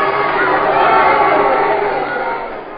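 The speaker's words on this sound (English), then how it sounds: "The crowd grows wild." A roaring crowd at a wrestling match in a 1946 radio drama, a dense, loud, continuous wall of cheering and shouting that holds steady and eases slightly at the end.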